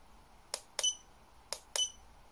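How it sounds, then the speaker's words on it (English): A Huepar LM100A laser distance meter beeps: two pairs of short electronic beeps, each pair a quick double chirp, repeating about a second apart against a quiet background. "Stop the beeping, I think."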